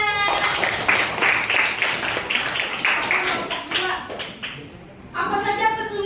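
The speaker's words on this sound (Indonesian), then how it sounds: "Oke, tepuk tangan." Students in a classroom clapping together, a dense burst of applause that thins out over a few seconds, with voices mixed in and talking resuming at the end.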